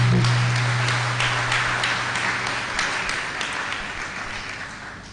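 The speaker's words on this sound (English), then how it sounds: "A round of applause for him, please." An audience at an accounting seminar on a finance act gives a steady round of applause, a broad wash of clapping with a low hum underneath throughout.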